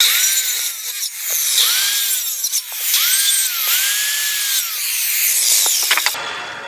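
Hand sawing a piece of wood to length for a homemade lathe. Steady rasping strokes sound close and loud, alone with no talking.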